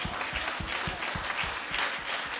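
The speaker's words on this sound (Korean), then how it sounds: "So why don't we stand and give the Lord a hand?" A crowd claps steadily, a sustained round of applause from many hands, from a church congregation standing to applaud during a worship service in Austin.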